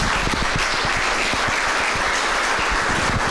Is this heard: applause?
yes